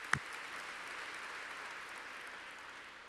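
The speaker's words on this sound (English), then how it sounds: "I think they deserve a round of applause." A symposium audience applauds after the organisers are thanked. The clapping is a soft, steady patter that sounds distant and even throughout, with one sharp knock near the start.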